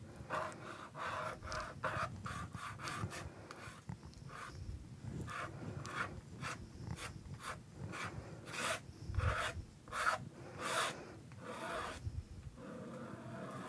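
A palette knife scrapes acrylic paint across canvas in a run of rough, rasping strokes, each a short gritty swipe repeating steadily at close range, quiet and without talk.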